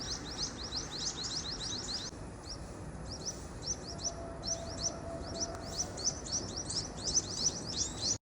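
Birds chirp and tweet in quick, repeated bursts around a home garden, the calls bright and fairly close, running steadily over a soft outdoor background with no talking.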